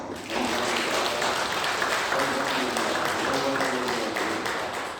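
Church congregation applauding during a Sunday worship service, a dense, steady wash of clapping held at even loudness for several seconds, with a faint tonal murmur of voices or music underneath.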